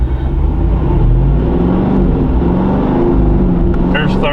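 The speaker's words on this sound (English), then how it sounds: "I'll just put it in gear and let it take off." A Jeep Wrangler 392 pulling away in low gear with its sway bar disconnected gives a loud, steady engine drone that holds near and constant throughout, with a brief higher whine near the end.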